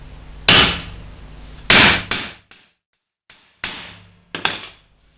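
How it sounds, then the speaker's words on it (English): A hammer strikes a rusty motorcycle bobber fender being reshaped against a plate, five or six sharp metallic blows in an uneven rhythm with short ringing decays, loud and close, with no talk. "Hit it with a hammer"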